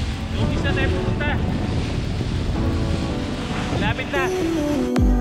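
A motor bangka cruises on open sea off Davao City, its steady engine drone mixed with wind buffeting and wave wash, loud and close throughout while people talk briefly over it.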